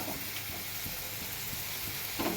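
Potatoes fried with ground coriander, cumin and ginger paste in a pan for a vegetarian banana-flower dish, giving a soft continuous sizzle with faint stirring taps, low in level and without talk.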